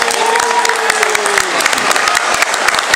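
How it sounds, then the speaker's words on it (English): A live talk-show audience applauds its first guest, a dense wash of clapping that fills the clip, with a host's voice heard briefly over it at the start. "if I could have a huge round of applause for our first guest of the show"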